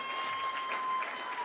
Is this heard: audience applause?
yes